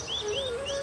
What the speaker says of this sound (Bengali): চারপাশে শুধুই গাছ আর পাখির ডাক